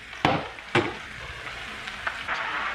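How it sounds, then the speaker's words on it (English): Bottle gourd (lau) frying in a pan over a medium flame, a steady soft sizzle with two sharp utensil knocks early on and a few lighter stirring scrapes after. "now we will fry the lau for about 5 to 6 minutes at a medium flame"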